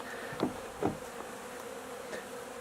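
A steady, low buzzing of many Russian honey bees fills the background, with a couple of faint taps and one bee droning close by.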